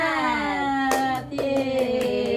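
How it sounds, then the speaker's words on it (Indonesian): A school class performs a rhythmic clapping chant, with sharp hand claps in a steady beat over a sustained tonal voice, close and fairly loud. "mari kita sama-sama melakukan tepuk semangat"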